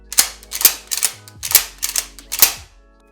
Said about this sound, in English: check to make sure that your pump is cycling correctly